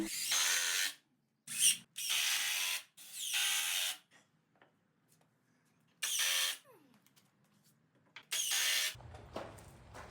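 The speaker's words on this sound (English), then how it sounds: "I'm just going back through and putting in a 2nd screw in each one of those brackets for extra support" A power drill drives screws into metal shelf brackets in a garage, coming in several short, loud bursts separated by pauses, with a quiet stretch of rustling between them.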